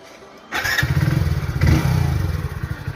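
A motorcycle engine fires up after the key is switched on, a sudden low, steady idle rumble with a faint clatter that swells briefly and then holds, close and loud with no one speaking.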